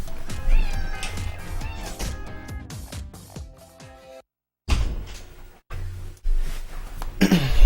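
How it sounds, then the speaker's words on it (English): A house cat meows several times in separate bursts, loud and close, with a sudden silent gap partway through before more vocal sounds resume. "I'm gonna let my cat out."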